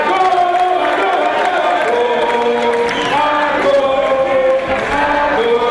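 Jubilant crowd in the United States cheering and shouting to welcome Ivorian President Alassane Ouattara and his wife Dominique, a dense, continuous roar of voices with whoops and calls throughout.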